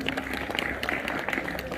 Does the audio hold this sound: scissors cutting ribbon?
no